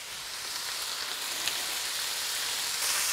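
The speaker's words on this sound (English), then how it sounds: "Then we allow the sausage to cook for about 2 minutes" Sausage sizzles in a frying pan for fried rice, a steady, close hiss of hot oil that runs without a break and with no talking, lifting slightly in loudness near the end.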